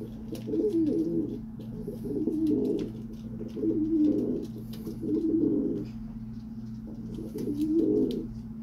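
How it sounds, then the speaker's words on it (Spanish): A high flyer pigeon cooing inside its wooden box, repeated low rolling coos in steady bursts, close and clear over a faint steady hum, with no voices. "para ver qué está haciendo la paloma por las rendijas"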